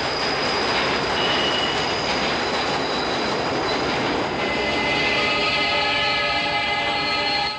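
A New York subway train in the film Jacob's Ladder gives a loud, continuous rush of rail noise with high, piercing wheel squeals running over it.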